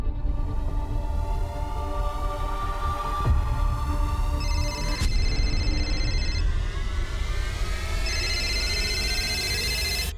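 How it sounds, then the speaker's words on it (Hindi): A phone rings on an outgoing call, giving a steady repeated ringback tone in two bursts over a background of constant droning hum with a couple of brief clicks, and no voices. "रिंग तो जा रही है"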